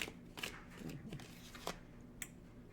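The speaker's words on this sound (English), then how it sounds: "Let's pull another card" A card is drawn from an oracle deck, producing a few faint, close rustling slides and flicks of card stock over quiet background hum.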